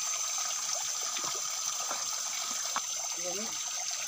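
Fresh water trickles from a tap deep in a forest, a steady light flow with a broad hiss throughout and a few faint knocks, heard alone without talk.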